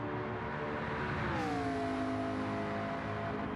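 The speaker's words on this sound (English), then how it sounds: "Boy, that McLaren sounds good." A McLaren race car in a simulated motorsports league race, its engine droning steadily with a rising-then-falling tone as it shifts, heard close and continuous with no talk.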